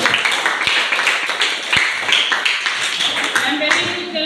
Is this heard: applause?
yes